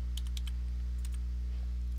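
Keystrokes on a computer keyboard as a web address is typed, a few quick clicks in short bursts over a steady low hum, with no voices.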